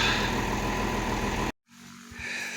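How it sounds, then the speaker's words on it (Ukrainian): A T-150 tractor engine warming up, a loud, steady idling drone that cuts out abruptly. The same rumble then returns, quieter and more distant. "трактор прогрівається і вперед"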